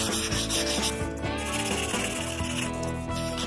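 Sandpaper rubbed by hand along the grain of a 1962 URKO wooden air rifle stock during restoration, steady close scratchy back-and-forth strokes in a regular rhythm, no talking.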